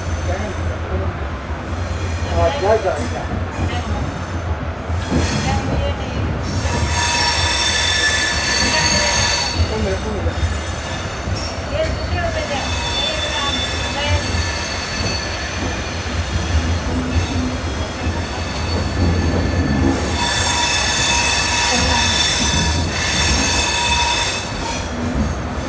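The 12134 Mangaluru Mumbai Superfast Express rolls out of Mangalore Junction onto the main line toward the Konkan Railway, with a steady loud rumble, wheel squeal and rattling carriage noise continuing throughout.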